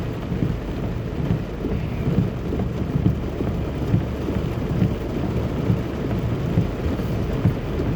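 Heavy rain pours steadily on a car driving a flooded road in Jamaica, a dense close hiss with low rumbling and rhythmic thumps underneath, continuous and loud with no voices.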